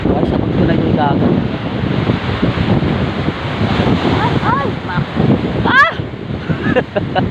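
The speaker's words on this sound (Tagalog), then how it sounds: "Dagat." Sea waves washing onto the shore in Real, Quezon, a steady loud rushing surf heavily buffeted by wind noise on the microphone, with a voice calling out briefly and people talking over it.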